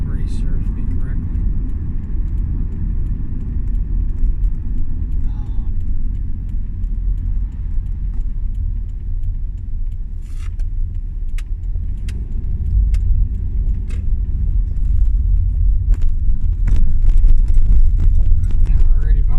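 Car on the morning commute over a bumpy road, a heavy low rumble of road and engine noise that grows louder near the end, with scattered knocks and thumps and a voice talking over it.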